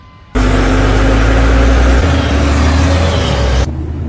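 A heavy truck engine labouring loudly and continuously as its wheels spin in slippery forest mud, a deep droning roar that starts abruptly and cuts off after about three seconds.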